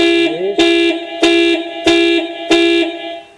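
Tata Altroz car horn sounds five times in a steady rhythm, loud and close, each short blast cleanly spaced, triggered remotely from the key fob.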